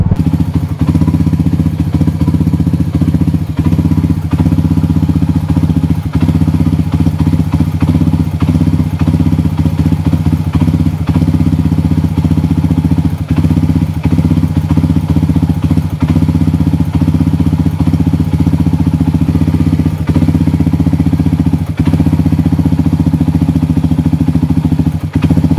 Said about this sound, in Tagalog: medyo palyado yung andar niya